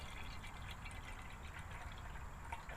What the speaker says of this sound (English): I'm just going to fill this up what I think is about a cup